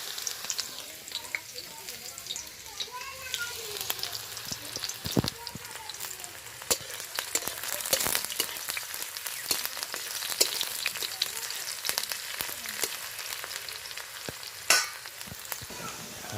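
Onions frying in mustard oil over a low flame, a steady close crackling sizzle with occasional stirring clinks and scrapes, fairly loud throughout.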